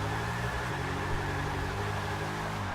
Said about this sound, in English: it kind of sounds like a racing V8